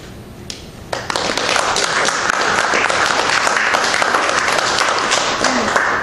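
Sustained, dense applause fills the room after a poetry reading at a Bonk! literary event, starting with a few scattered claps and then swelling into steady loud clapping that continues throughout.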